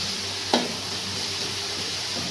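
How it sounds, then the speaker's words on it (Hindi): Vegetables for chicken shashlik fry in a pan with a steady, close hiss and crackle that runs throughout, with a brief clack of a utensil near the start. "हमारी सब्जियां फ्राई हो रही हैं"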